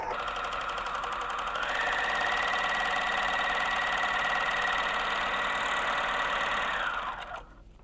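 A four-thread overlock serger sewing a row with the right needle tension set tight, a steady rapid mechanical whir running for about seven seconds before slowing to a stop, close by.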